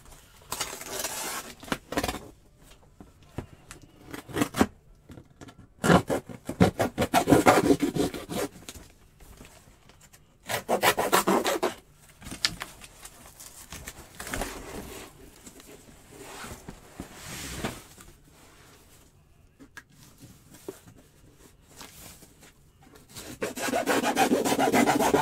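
Cardboard being cut by hand while packing a shipping box for a large fragile antique: several bursts of rough rasping strokes, close and moderately loud, separated by short pauses.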